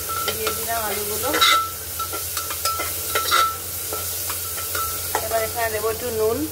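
Potatoes hiss and sizzle steadily in a hot pan at close range, with occasional scrapes and clinks of a spatula stirring them.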